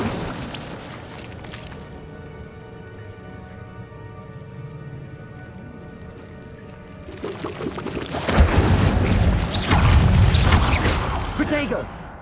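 In Hogwarts Legacy, the Incendio fire spell is cast. A quieter stretch swells into a loud, roaring, crackling burst of flame and booming impacts during combat.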